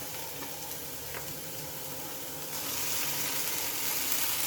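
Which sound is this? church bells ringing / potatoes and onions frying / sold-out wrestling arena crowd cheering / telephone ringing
potatoes and onions frying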